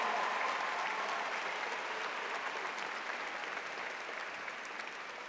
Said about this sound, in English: let's get a round of applause for all of our support systems